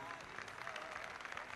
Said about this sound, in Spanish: Rosita, valen los aplausos